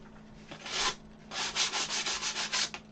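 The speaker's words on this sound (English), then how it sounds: "Sandpaper here. 320, good enough." Wood is sanded by hand with 320 grit sandpaper, giving soft, close rubbing strokes: one longer pass and then a quick run of short back-and-forth scrubs.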